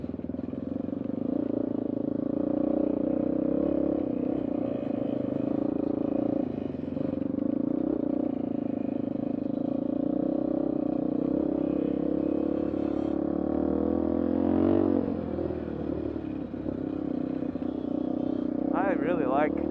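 A 1986 Yamaha TT350 dirt bike engine drones steadily while ridden on trails at Moab, a constant loud thrum with slight swells and a rattle near the end, someone talking over it throughout.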